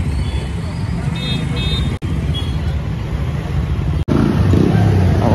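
Dense road traffic rumbles steadily through a crowded Goa street on the night of the Narkasur festival at Naraka Chaturdashi, loud and continuous with engine drone, faint horn toots, and a crowd murmuring underneath.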